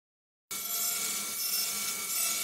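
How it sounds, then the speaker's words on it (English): Harsh, steady metal-cutting noise starts abruptly and continues without pause, a close, gritty rasp of a saw cutting pieces of iron during construction of a metal bridge sculpture. "This is the sawing out of these pieces of iron"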